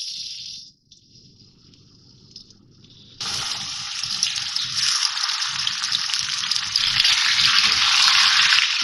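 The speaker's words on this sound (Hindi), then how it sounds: "ये कढ़ाई में मैंने ऑयल डाल लिया है 1/2 कप, थोड़ा गर्म हो गया है। अब मैं इसमें चिकन डाल रही हूँ।" Chicken dropped into half a cup of hot oil in a karahi, a quiet start then a sudden loud burst of hissing, bubbling sizzle that builds and stays strong and close, without talk.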